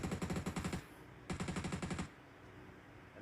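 Two close bursts of automatic rifle fire in the video game PUBG Mobile, each a rapid string of sharp shots, separated by a brief gap and followed by quiet.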